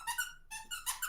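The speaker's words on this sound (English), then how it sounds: "sorry, my dog Scooby. squeaked" A dog gives a few short high squeaks in quick succession, faint and close in an otherwise quiet room.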